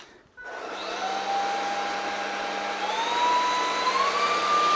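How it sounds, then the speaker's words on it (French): A Laresar Elite 3 cordless vacuum cleaner switched on by its trigger and run at maximum power, starting after a short pause with a loud steady whine and motor hum whose pitch rises slightly, no talking. "donc je prends mon aspirateur. Tac. Donc on l'allume avec la gâchette comme je vous l'ai montré."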